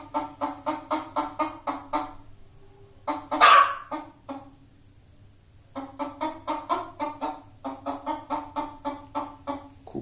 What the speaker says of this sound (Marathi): खूप सुंदर पक्षी आहे.